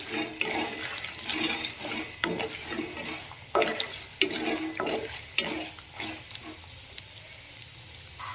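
Lentils and a dried red chilli fry in a pan for rice rava upma, giving a bubbling crackle broken by repeated scraping strokes of stirring, fairly close and moderately loud.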